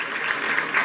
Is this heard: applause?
yes